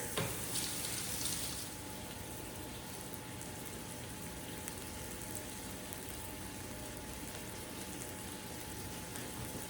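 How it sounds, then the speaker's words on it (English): Steady, dense sizzling of a Juicy Lucy burger patty frying in a hot pan, continuous hiss throughout with no talking. "You hear that sizzle? That's good. That's what we want to hear."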